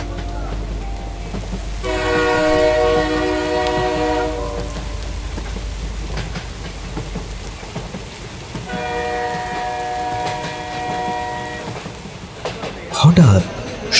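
A cartoon train running through a remote green area at dusk, with a steady low rumble and two long, sustained horn blasts, then a brief clunk near the end.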